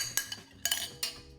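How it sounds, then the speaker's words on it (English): A spoon or utensil clinks against a pot while cheese paste is stirred into pasta alla gricia: three or four close, light metallic taps in quick succession with soft scraping between them. "turn off the heat and stir in the cheese paste"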